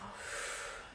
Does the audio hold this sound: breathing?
yes